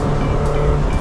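Loud, rough intake roar from a high-compression, high-cam carbureted engine in a stripped-interior Toyota AE86, a steady droning rush heard from inside the cabin.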